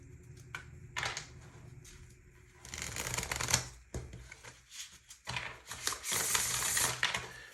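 Tarot cards shuffled close up in bursts of rapid riffling and soft slaps, with short pauses between rounds.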